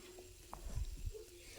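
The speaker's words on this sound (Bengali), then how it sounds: "এরপরে আমি এটাকে নেড়ে চেড়ে ভেজে নিচ্ছি।" Pointed gourd and shrimp are stirred and fried in a pan, giving a quiet sizzle with a few soft scrapes and stirring bumps in the middle.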